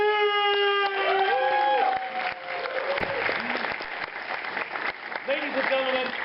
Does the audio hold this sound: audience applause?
yes